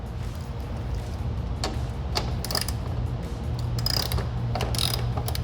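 A 3/8 drive ratchet with a 15mm socket on a short extension works a tight front bumper bolt on a 2021-2026 Ford Bronco, giving scattered sharp ratcheting clicks in short bursts over a steady low background hum.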